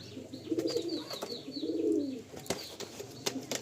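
Chotiyal pigeons in a loft give two soft, rolling coos with brief clicks and rustles between them. The sound is fairly faint and close, with no talking.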